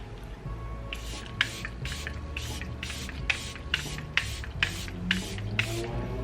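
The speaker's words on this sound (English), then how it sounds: "I'm going to set my face one more time using the Charlotte Tilbury setting spray" Charlotte Tilbury setting spray is misted onto a face in a rapid series of about ten short, soft hissing bursts, close and quiet, evenly paced over a faint background hum.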